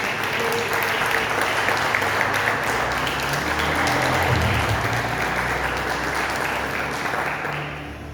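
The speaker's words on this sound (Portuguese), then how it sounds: "Levanta a tua mão e aplaude o nome de Jesus." Sustained applause from a large crowd at a church service, steady and dense throughout, tapering slightly at the end.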